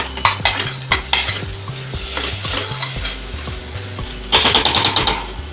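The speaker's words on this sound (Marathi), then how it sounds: "दोन मिनटं झाले बघा छान तेल सुटले मसाल्याला" Masala frying in hot oil in a pan with a steady close sizzle, stirred with a utensil that gives repeated scraping knocks; the sizzle grows louder and brighter near the end, with no talk.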